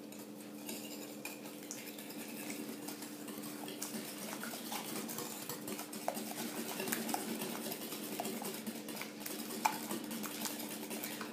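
A spoon or whisk scrapes and clinks steadily against a bowl while apple tart filling is stirred with sugar, a continuous quiet rhythmic scraping with no talking.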